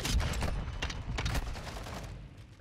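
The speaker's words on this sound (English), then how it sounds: "But those other shots miss." Rapid bursts of gunfire ring out in Modern Warfare II, a cluster of sharp shots over about two seconds that fade away toward the end, moderately loud with no speech.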